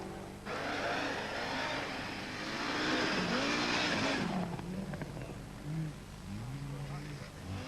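An Audi Quattro and an Audi 80 rally car race through the 1983 Swedish Rally, engines revving and shifting as they pass close by, the roar swelling and fading under a commentator's continuous speech.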